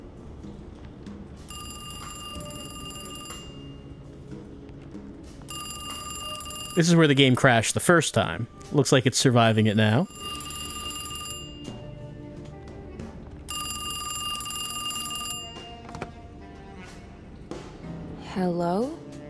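An old telephone bell rings in the video game Alone in the Dark, in regular long bursts separated by pauses, continuing throughout as someone talks over the middle section.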